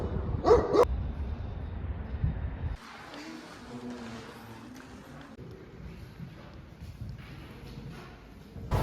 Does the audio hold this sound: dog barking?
yes